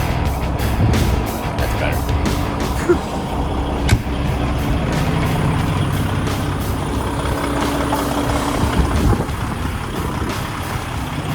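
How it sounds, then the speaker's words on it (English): Diesel truck engine idling on a rural morning, a steady low rumble with a few sharp knocks and clanks, close and loud throughout, and someone speaking briefly over it. "Let's fire up the diesel."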